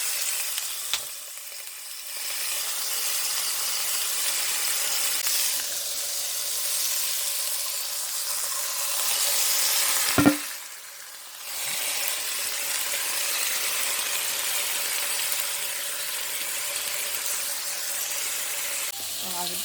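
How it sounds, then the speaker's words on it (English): Salmon kabobs sizzle steadily in a hot pan with lemon juice and residue added, a loud continuous frying hiss with a brief clatter midway, while a voice speaks faintly over it. "Sizzling pretty good."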